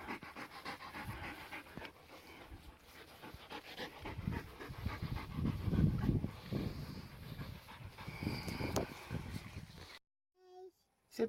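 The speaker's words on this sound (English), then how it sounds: "Silly dogs. They knocked us over." Several dogs pant rapidly and heavily close by, with rough breathy bursts throughout. People talk over the panting, and it ends in a brief near-silence.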